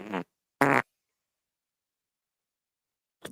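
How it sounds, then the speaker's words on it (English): A fart sound effect played as two short, close, buzzy blasts, then silence and a brief third burst at the end. "fell so flat, she farted"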